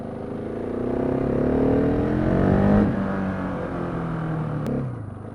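A 2016 Husqvarna 701 Supermoto single-cylinder engine pulls hard while riding, its tone climbing steadily, dropping at a gear change, then rising again under constant wind rush.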